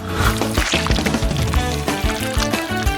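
Thick colored batter, made with Skittles candy, poured steadily into each of several molds in a home cooking challenge, a continuous close liquid pour with small knocks and taps throughout.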